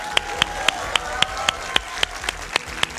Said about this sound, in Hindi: तालियों के साथ आप तीनों का बहुत बहुत स्वागत है।